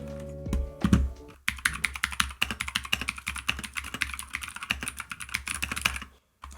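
Rapid, steady typing on a thin Keychron mechanical keyboard with crisp clacks, close and fairly loud, continuing for several seconds after a brief thump, then stopping.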